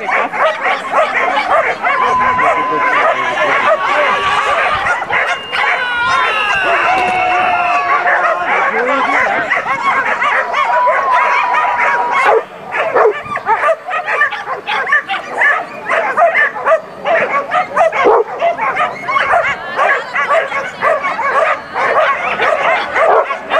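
A dense chorus of many dogs barks, yips and whines continuously at a flyball competition in Beerzel, loud and close throughout, with people talking underneath.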